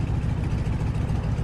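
A propeller aircraft engine running at full RPM in Microsoft Flight Simulator produces a steady, dense low drone that holds level and close throughout, with no voices.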